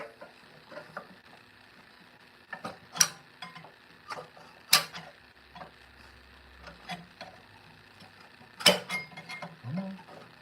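Metal parts of an Elite Cub Cadet 24-inch snow blower being pried loose by hand, heard as scattered sharp clanks and scraping knocks, a few louder bangs among quieter rattling, close up with no talk.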